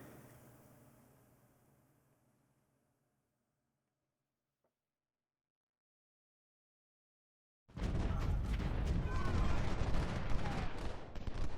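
In the Civil War strategy game Ultimate General: Civil War, artillery fire erupts as a dense, roaring barrage of booms after a long near-silent stretch that follows a fading rumble.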